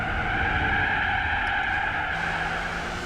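A car skids through lift-off oversteer in the Gran Turismo 4 racing game, a steady engine drone with a smeared tire scrub sustained for about three seconds, loud and even throughout, with no voices.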